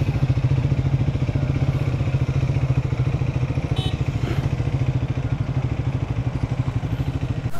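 Triumph Scrambler 400 XC motorcycle engine running steadily at the start of a group ride, a close, loud, even rhythmic thrum with no talk over it.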